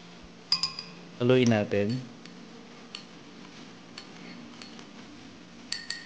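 A spoon stirs liquid in a container, giving scattered light clinks and ticks against the sides. A brief voice is heard partway through.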